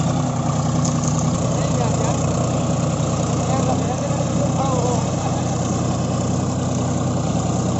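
A John Deere 5050D tractor engine runs in two-wheel drive with only the rear tyres pulling, giving a steady, loud, close diesel drone throughout, with someone talking over it.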